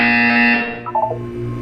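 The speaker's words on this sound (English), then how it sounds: "When you hear the buzzer, look down at the floor." A buzzer sounds inside a Portal 2 video game test chamber, a loud steady electronic tone lasting about half a second before fading into quieter ambient hum with a few faint blips.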